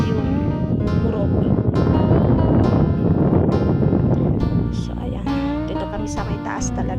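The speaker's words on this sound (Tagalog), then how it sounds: "sobrang lakas ng hangin" Strong wind buffets and roars against the microphone in heavy gusts, with a voice talking over it in the later part.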